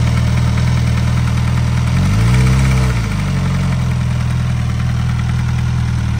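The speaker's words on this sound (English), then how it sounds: "There's this rattling noise on the right side of the engine." A hot Suzuki GSX-S1000GT motorcycle engine idles steadily up close, with a rattling noise from the right side of the engine and a brief rise in revs partway through, no voices present.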